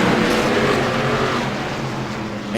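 Race cars accelerate on a green flag restart at Langley Speedway, a loud blended roar of engines building and passing close, continuous and steady across the field with no voices.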